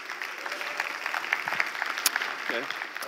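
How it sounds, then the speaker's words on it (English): A conference audience applauds in a steady wash of clapping that holds for a few seconds, fairly close and even, with a voice or two briefly audible over it. "So can we give them all an applause?"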